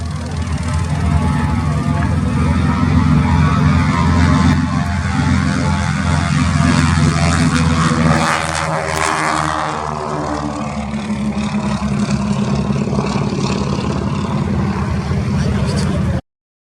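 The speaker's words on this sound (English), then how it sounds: "Here's the Royal Netherlands Air Force historic flight example of the Beech 18" A Beech 18 of the Royal Netherlands Air Force historic flight takes off on its twin radial engines at an RAF Cosford air display, a loud sustained drone that rises and shifts in pitch as it passes close by.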